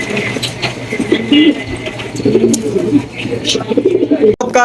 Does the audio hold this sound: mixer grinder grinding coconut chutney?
no